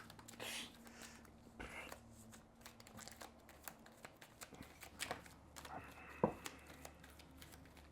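Treasure cards for the HeroQuest board game being shuffled at the table, a run of quick riffling and flicking bursts with soft taps between, fairly quiet, with faint talk around the players.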